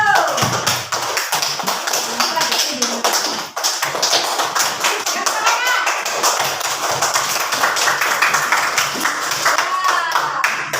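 Students in an elementary classroom applaud a group after its presentation, steady dense clapping and tapping running throughout, with voices mixed underneath.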